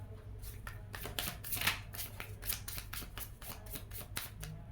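Tarot cards are shuffled close up, making a steady run of crisp, papery flutters and slaps in quick repeated bursts, with no speech over them.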